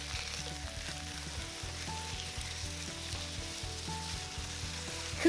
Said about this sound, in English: we're gonna brown them for 2 minutes on each side.